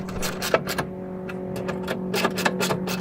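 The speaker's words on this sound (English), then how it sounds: "I'm trying to tighten up all the screw that is loose to make it tighter" Repeated close ratcheting clicks and faint whirring as screws are tightened on a window regulator bracket inside the door of a 1999–2004 second-generation Honda Odyssey van, steady under a constant low hum.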